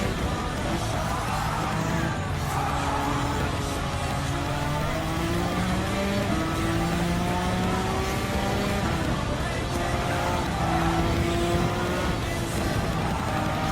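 The engine of a Suzuki V6 Escudo Pikes Special '98 race car in Gran Turismo 7 drones on continuously. Its pitch climbs repeatedly and then drops back with each gear change, steady and fairly loud throughout.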